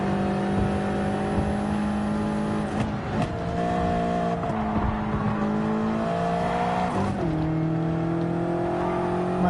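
Ford Mustang Gr4 race car in the Gran Turismo 7 video game, a steady droning engine note with shifting pitch that dips sharply twice as the revs drop and recover, clear and continuous with no talk.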